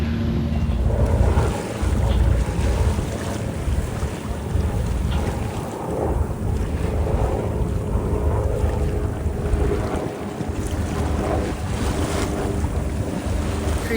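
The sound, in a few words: headwind blowing while sailing through the Narrows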